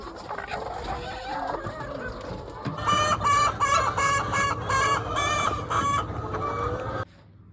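Chickens cluck busily on a farm in Ukraine, with a rooster-like crow rising among them; the flock sounds close and loud before cutting off abruptly near the end.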